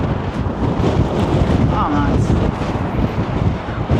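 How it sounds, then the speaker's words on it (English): Strong wind gusts buffet the microphone along the Blackpool promenade, a loud steady roar with rumbling low-end, and a voice speaks briefly over it. "with it being so windy there"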